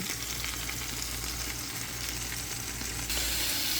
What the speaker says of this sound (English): I got that meat browned up and I pushed it to one side of my pot